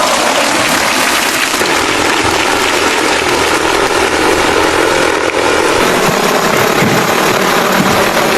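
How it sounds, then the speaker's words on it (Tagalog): A steady, loud high-pitched whirring buzz of a drone flying overhead drones on continuously, like small rotors spinning nearby, with no talking. "Kung narinig nyo yung tunog, ayan na yung ating drone."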